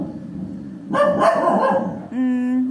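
Several dogs bark near the listener, with a cluster of loud, overlapping barks in the middle followed by one sustained, whining howl-like bark at the end, over a low murmur of background noise.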